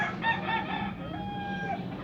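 Rooster crowing at a chicken market, one loud drawn-out crow close by with a rising then held tone, over steady background noise.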